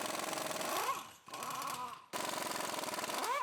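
A rapid pneumatic impact gun rattles hard on the steering box bolts of a Sierra Denali truck in three close bursts, each with a brief whine as it spins down.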